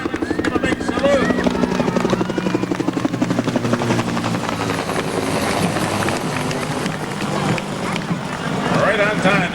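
A military helicopter makes a flyover at the Penfield 4th of July parade, its rhythmic rotor thumping loud and steady throughout while a voice speaks over it.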